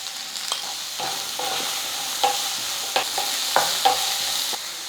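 Three large onions with salt sauté in a pan for a garlic chutney, giving a steady close sizzle broken by repeated scraping strokes of a spoon as they are stirred.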